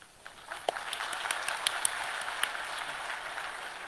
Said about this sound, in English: you guys are supposed to clap for them